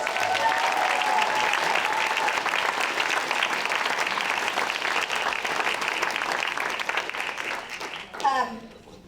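A crowd at a PechaKucha night in Burlington gives its presenters loud, sustained applause, a dense roar of clapping that holds for about eight seconds before thinning, with a voice cutting in near the end.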